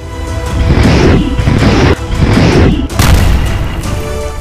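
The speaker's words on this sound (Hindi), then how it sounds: "रूस ने यूक्रेन की राजधानी कीव, खार्किव और आसपास के इलाकों पर 158 मिसाइलें दाग दी" Heavy booming blasts from missile strikes on Kharkiv and Kyiv in Ukraine, loud and close, rolling in several overlapping rumbling waves with a sharper crash near the end.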